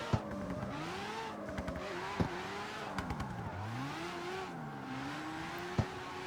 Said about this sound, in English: But the vibe with this car drifting at night time is actually kind of fun